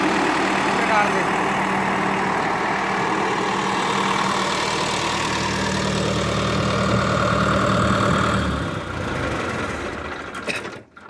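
A tractor engine idles steadily with the accelerator raised, a loud continuous drone with a constant mid and low rumble that holds for about eight seconds before easing off near the end.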